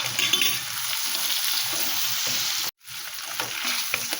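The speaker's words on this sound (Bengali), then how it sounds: "মশলাগুলো সব ভাজা হয়ে গেছে," Shrimp fry with cumin seeds and green chillies in a pan, giving a constant, bright, close sizzle with light stirring and a brief silent break partway through.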